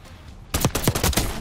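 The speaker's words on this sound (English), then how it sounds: "somebody's hitting me with an SMG" Submachine gun fire in the Black Ops 6 video game, a loud burst of rapid shots starting abruptly after a quiet moment and continuing as a dense volley.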